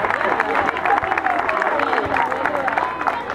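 A crowd of spectators keeps up a steady round of clapping for a few seconds. A speaking voice and general crowd murmur sit on top of the applause.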